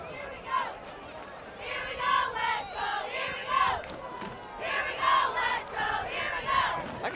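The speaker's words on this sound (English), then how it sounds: "I can kind of understand what the cheer team's saying now." A high school cheer team chants in rhythmic, repeated group calls at a varsity football game, the shouted phrases rising and falling in a steady cadence with crowd noise between them.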